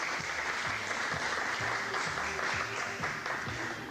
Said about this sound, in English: we ought to give all of these students a big round of applause for their fine representation of the schools